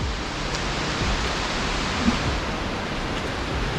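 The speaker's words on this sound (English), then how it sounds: "That's definitely a lot of water flowing right now." High-flow waterfall at Rocky Mouth Falls in Utah, a dense, steady roar of rushing water that fills the whole scene, loud and unbroken with no voices.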